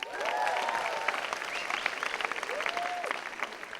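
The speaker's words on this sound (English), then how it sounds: "I'm so glad you clapped" An audience at a stand-up comedy show applauds with a dense, steady wash of clapping, and a few whoops and cheers rise above it.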